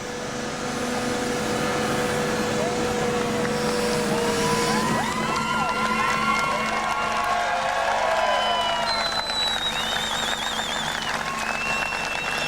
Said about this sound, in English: Let's give Ian Arbuckle a big round of applause.